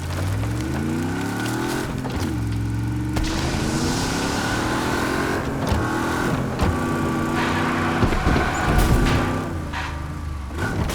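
A car engine revving and shifting through gears while drifting in the Wreckreation racing game: a loud, continuous engine note rising and dropping repeatedly, with tyre scrub and occasional thuds underneath.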